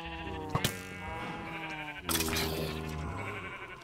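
Sheep bleating inside a video game, two long wavering bleats with a pause between them, loud and close over a steady game background.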